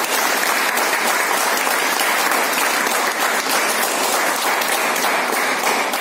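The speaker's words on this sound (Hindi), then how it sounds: "एक जोरदार तालियां" A seminar audience gives loud, sustained applause, a steady wash of many hands clapping together at even strength throughout, with no talk over it.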